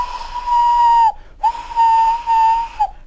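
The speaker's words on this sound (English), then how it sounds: "One day Thomas heard an engine whistling." A steam engine whistle sounds twice, each a clear sustained tone lasting about a second with a brief gap between, loud and close with no other sound.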